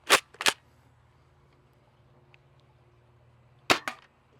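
A Nerf Pro Torrent spring blaster fires foam darts from a Talon magazine, with two sharp, close snapping shots in quick succession, a long quiet gap, then two more snappy shots.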